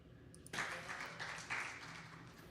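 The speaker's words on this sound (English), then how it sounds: "you got a couple people applauding" A couple of people applaud faintly in the distance, a short patter of claps that starts abruptly and then tapers over a couple of seconds.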